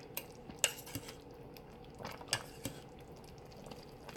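Pot roast flipped in a pan: a few sharp metal clinks and scrapes of a utensil against cookware, faint and spaced apart over a quiet kitchen background.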